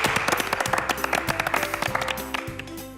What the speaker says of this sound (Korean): 박수 한번 치고 시작하시죠